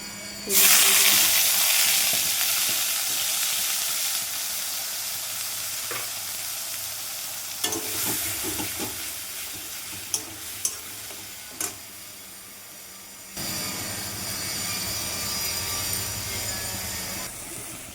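Chili powder, turmeric, green chili paste, tomato paste and onion paste hiss loudly in hot oil in a wok, a dense continuous sizzle with a few utensil knocks, easing briefly before surging again.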